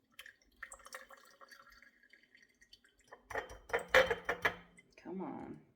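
Liquid basil face cream mixture trickles and splashes in short bursts as it is poured through a strainer, with light clinks of glass or metal, fairly quiet and close.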